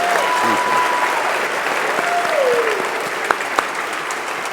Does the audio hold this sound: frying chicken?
no